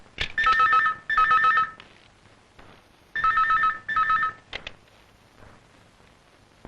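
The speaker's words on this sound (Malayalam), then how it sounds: "നീ പോയി അപ്പുറത്തെ മുറിയിലെ ഫോൺ എടുത്തേ." An old-style telephone rings in the next room of a house, two loud double-burst rings with a short pause between them, followed by quieter room sounds.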